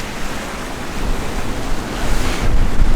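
Hurricane Nicole's storm waves and gusting wind roar close to the microphone against a seawall in St. Augustine at near high tide, the wash of water building louder toward the end.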